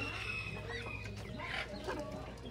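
Young chickens raised as breeding stock cluck quietly nearby, soft scattered clucks and short calls over a low hum, faint and without talk.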